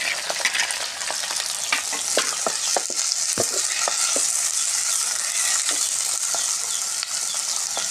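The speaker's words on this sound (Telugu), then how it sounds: "నూనె కాగిపోయింది. తర్వాత ఉల్లిపాయ ముక్కలు వేస్తున్నాను." Onion pieces and green chillies fry in hot oil in a pan, giving a loud, steady sizzle with occasional sharp crackles and scraping stirs, close by.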